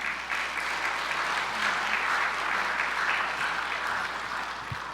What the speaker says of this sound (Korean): 목사님 나오실 때에 우리 큰 박수로 함께 환영하도록 하겠습니다.